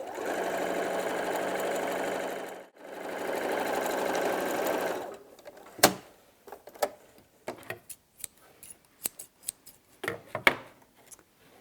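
A sewing machine runs in two steady bursts, stitching two pieces of hessian fabric together, with a short pause between them, followed by scattered clicks and handling knocks as the work is shifted.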